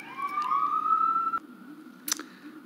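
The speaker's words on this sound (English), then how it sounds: "there are police cars out there. Sorry about the noise." A police car siren wails outside, a rising tone that holds steady for over a second before cutting off, followed by a short burst of clatter nearby.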